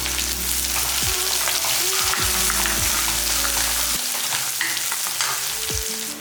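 Finely chopped small onions frying in oil in a pan for fish curry, giving a loud, steady sizzle with occasional stirring scrapes.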